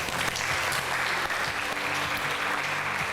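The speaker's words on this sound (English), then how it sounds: "Clap for them." An audience applauds steadily at a reality TV show event for Ondo State representatives, a dense, continuous wash of clapping with faint background tones underneath.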